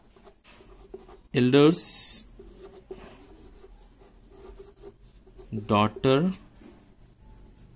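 Pen scratches on paper while a math problem for a Class 8 exam is worked out, coming in a couple of short, bright bursts between spoken explanation.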